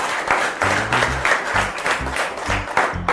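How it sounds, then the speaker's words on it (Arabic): An audience claps in applause with uneven, rippling bursts over a few seconds, while a low rhythmic musical thump runs underneath. "تصفيقة تصفيقة."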